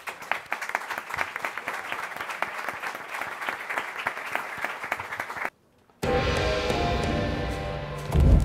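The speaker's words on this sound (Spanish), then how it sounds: "un fuerte aplauso para nuestros voluntarios" Audience applause for volunteers at an animation and video game event, steady dense clapping for about five seconds, a brief silence, then a louder, fuller burst of crowd noise and cheering.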